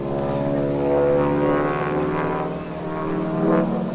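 A big T-6 propeller airplane flying aerobatic maneuvers at an airshow, its loud, steady radial-engine drone rising and falling slightly in pitch as it pulls through the routine, with no talk over it.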